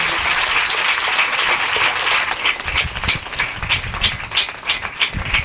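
A congregation at a Christian church service applauds loudly, a dense wash of clapping that thins into separate, rhythmic claps toward the end.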